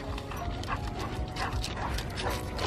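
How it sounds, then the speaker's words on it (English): Small dogs romp and scuffle in busy, continuous activity, with bits of yipping and rustling movement close by. "The puppies are having fun."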